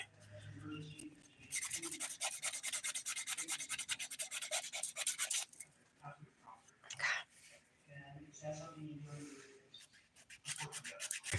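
A dip-powder manicured nail is filed smooth with quick rasping rubs in a dense burst, then shorter strokes, while a person talks between them.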